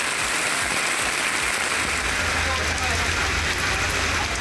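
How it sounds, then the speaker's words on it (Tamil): Heavy rain with strong wind pours down in a dense, constant hiss, loud and unbroken throughout, with a low rumbling undertone growing in partway through. "பலத்த காற்றுடன் கனமழை கொட்டியது."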